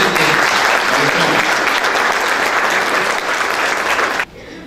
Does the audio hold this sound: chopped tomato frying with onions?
no